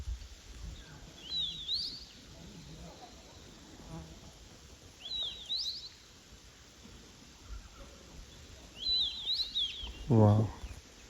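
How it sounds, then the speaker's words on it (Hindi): A small black bird calls from a perch in a grassy meadow inside dense Uttarakhand forest, giving three short, faint high chirping bursts spaced a few seconds apart over a quiet outdoor background. "एक प्यारी सी काली सी चिड़िया यहाँ पे बैठी है और पता नहीं किस तरह की साउंड निकाल रही है।"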